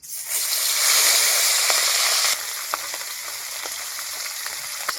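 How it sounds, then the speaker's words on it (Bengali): Small puti fish fry in hot oil in a pan, a close, loud, continuous sizzle that eases slightly midway and carries on with scattered little pops and crackles. "এই যে মাছগুলো এবার আমি ভেজে নিচ্ছি"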